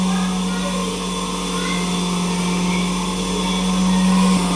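Village flour mill grinding wheat nearby, a loud steady motor drone with a constant hum and rough mechanical grinding, continuous and unchanging throughout.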